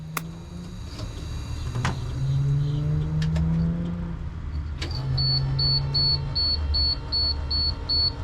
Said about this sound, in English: Here's me trying to get the beeping to start or to not come on again.